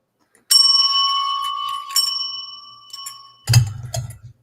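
A single metal bell struck close up gives a bright ring that sustains and slowly decays, followed by a second lighter tap and then a louder clattering knock near the end, with no talking.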